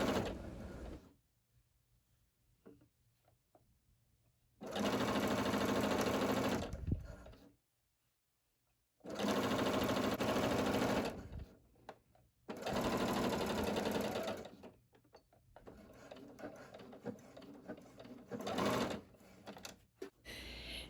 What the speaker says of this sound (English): I am just going to sew a 1/4 inch seam on those